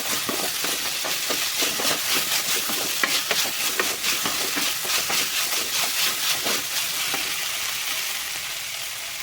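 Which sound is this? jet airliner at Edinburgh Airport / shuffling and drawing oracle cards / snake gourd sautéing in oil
snake gourd sautéing in oil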